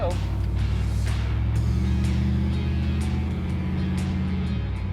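A 1964 Chevy Chevelle engine idles steadily and close by after years of sitting, a low even rumble running throughout with a slight rise partway.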